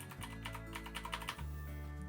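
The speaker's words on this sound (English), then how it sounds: "Always got to have a clicky keyboard." Fingers type quickly on a clicky computer keyboard at a home office desk, a close, steady patter of crisp keystrokes with a brief pause midway.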